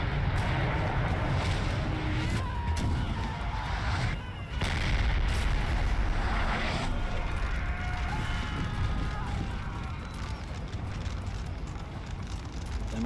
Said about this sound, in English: We've got artillery warfare here.